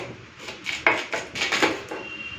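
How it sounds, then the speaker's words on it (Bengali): Elephant foot yam is chopped into large chunks with a knife, giving a handful of sharp, close knocks against a board in an uneven rhythm. "ওলটা কেটে নিই।"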